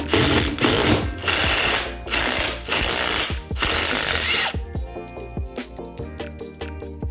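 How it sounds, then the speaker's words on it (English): Metal tool on a worn stud in a kart wheel hub, scraping and ratcheting in loud bursts that give way to lighter clicks and taps. "the screw extractor grabs the end of your stud, so press it in as you unscrew it"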